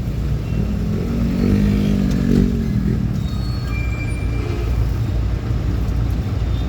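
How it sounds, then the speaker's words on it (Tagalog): Busy road traffic with motorcycles and cars, a steady low engine rumble with passing vehicles and occasional revving, continuous and fairly loud, no voices. "Maraming traffic dito, papuntang Tangos,"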